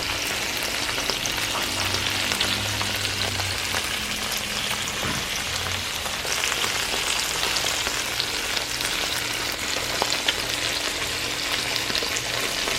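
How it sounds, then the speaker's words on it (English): Steady, close sizzling of lamb shoulder frying in a hot pan, a continuous crackling hiss with faint occasional clinks and no talking. "Yep, I hear it starting to sizzle."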